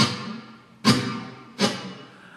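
Two sharp percussive dead-stroke strums on muted guitar strings, about three-quarters of a second apart, each a dry scratchy chuck with no ringing notes.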